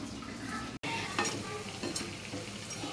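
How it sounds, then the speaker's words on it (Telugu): Garelu, lentil fritters, fry in hot oil with a close, continuous crackling sizzle, broken by one momentary dropout and a few faint clinks of utensils. "నూనె కూడా కాగిపోయింది, గారెలు వేస్తా ఫస్ట్."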